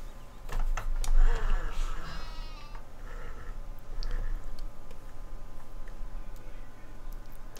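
Video game sheep bleat a couple of times, fairly close, amid a low ambient hum, with people talking over parts of it.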